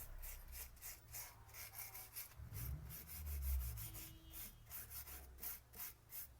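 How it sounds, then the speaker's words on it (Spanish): Wooden boards are scraped to strip paint back to the base colour, with a rhythmic series of rough rubbing strokes repeated close up and evenly spaced, and no voices. "Vamos a ir raspando, decapando en los lugares que tú quieras que se vea el color de fondo."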